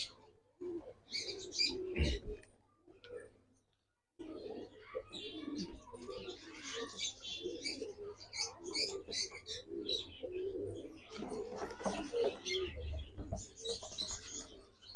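Pigeons in a loft coo in low, throaty bursts with a few chirps, close by and fairly quiet, with a brief pause early on.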